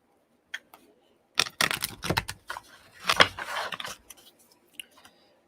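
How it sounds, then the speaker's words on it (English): Cards are shuffled on a table in soft riffling bursts and light clicks, quiet and close, with pauses between. "I will try to be very quiet with my shuffling."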